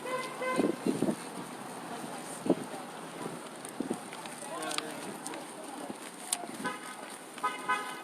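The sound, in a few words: car horns honking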